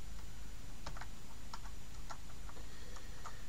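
A noisy computer keyboard clatters in short, irregular bursts of keystrokes, close and fairly quiet, with no talking.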